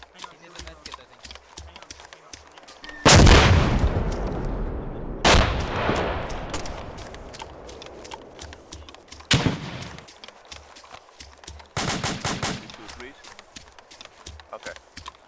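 Practice-round explosions and gunfire in a military video game: bursts of rapid shots, then several heavy booms with long decaying rumbles, mixed with ongoing chatter from players talking.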